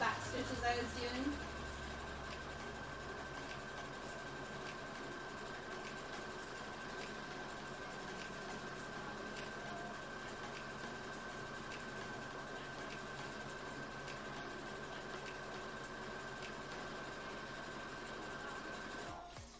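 A sewing machine stitching short back stitches, running as a fast steady mechanical whir and clatter for about twenty seconds, close by but quiet, with no one talking.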